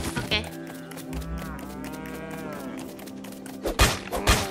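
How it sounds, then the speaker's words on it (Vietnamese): A cow in the game Lego Fortnite moos in a long, drawn-out, wavering call lasting several seconds, followed by a few short thumps and bursts at the end. "mày con bò này đứng dậy đánh nhau với tao mày à mày"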